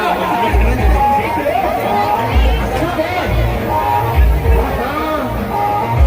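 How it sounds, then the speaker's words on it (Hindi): Dense crowd chatter and general hubbub at the busy Rautahi fair in Sakti, a constant loud babble of many voices with a nearby voice talking over it. "देखो फुल भीड़ है संगवारी फुल भीड़ है"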